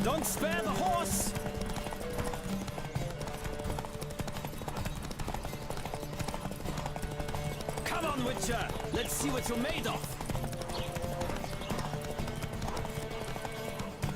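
A horse gallops hard through a race in The Witcher 3, its hoofbeats drumming continuously and loudly while a rider shouts over the pounding and music plays underneath.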